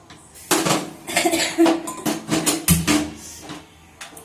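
Metal utensils scraping and clanking against a pot while a chickpea and potato vegetable curry with a little gravy is stirred, loud and close, in irregular bursts of clinks and knocks.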